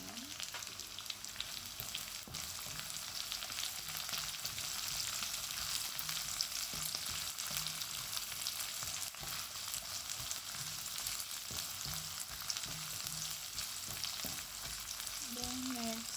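Onion frying in a pan for chicken adobo, a steady broadband sizzle running throughout with faint stirring scrapes, close and even in level.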